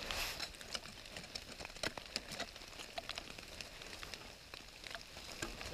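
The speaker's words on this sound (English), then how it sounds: "it's pouring the rain down here" Heavy rain pours outdoors in Alaska near Fairbanks, a faint continuous patter with scattered sharper drips and crackles and no voices.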